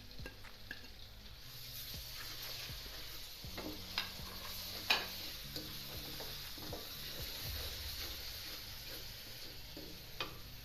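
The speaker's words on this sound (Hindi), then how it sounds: "ये सारे अदरक लहसुन सारे मसाले अब इसमें डाल देंगे।" Ginger, garlic and spices fry in a karahi with a steady soft sizzle, punctuated by scattered clicks and scrapes of stirring; no voices.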